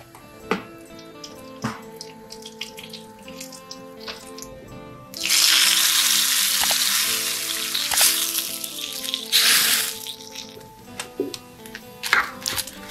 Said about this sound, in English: we give a ghee ka tadka with ghee, bay leaf, ginger, green chili crushed with lot of cumin